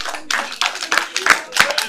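Children clap together in a quick, uneven rhythm of sharp claps, several bursts close to the microphone at a lively pace.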